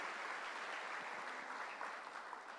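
Applause from a church congregation celebrating a family, a dense steady wash of clapping filling the whole stretch at even loudness with no voices over it.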